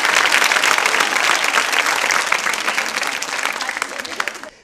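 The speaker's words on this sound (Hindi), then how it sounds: "तालियां जोरों से बजाइए" A large crowd applauds loudly and steadily, dense clapping that gradually thins and fades out at the end.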